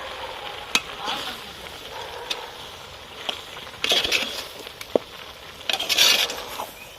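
Ground coconut paste being stirred into aviyal in a pan, a soft scraping churn with a light sizzle underneath and a few sharp spoon clicks and louder stirring bursts, close and without talk.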